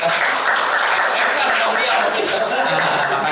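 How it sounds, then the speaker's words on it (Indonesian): A group claps hands at a palm-oil (sawit) company training session, producing dense, steady clapping that runs for the whole stretch, blended with crowd voices. "tepuk tangan dong, salaman."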